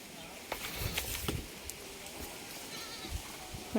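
In a village, goats bleat a few times over a noisy outdoor background, with some brief voices in the mix.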